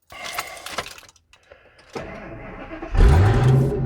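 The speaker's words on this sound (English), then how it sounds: "Let me start it again." A truck with its catalytic converter missing cranks with a few short bursts, then the engine catches and starts with a loud, raw, deep roar that carries on to the end.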